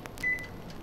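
A single short electronic beep rings out as a toaster oven timer is set for sublimation, heard alone over a faint background hum.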